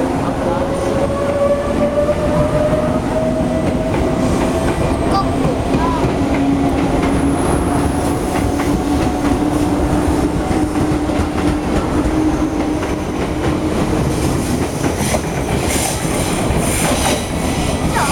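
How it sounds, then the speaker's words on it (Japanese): An out-of-service train departs Ofuna Station platform 5 on the Yokosuka Line, rolling out steadily with a continuous rumble and rising motor whine, wheels clattering and squealing faintly, loud and close throughout. "5番線、回送列車発車しております"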